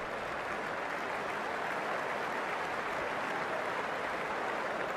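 Steady crowd applause from a cricket match in the Ashes Cricket video game, a continuous even wash of clapping that holds at one level throughout, with no voices over it.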